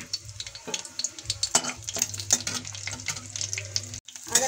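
A dry chili, cumin and bay leaf tempering hitting hot oil: an irregular crackle and spit of sizzling with spoon clinks against the pan, close and moderately loud, with a brief drop near the end.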